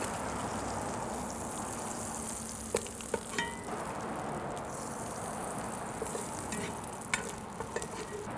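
Breakfast sausage frying in its rendered fat in a skillet, a constant dense sizzle and crackle close up, broken by several sharp scraping and clinking sounds from a utensil moving against the pan.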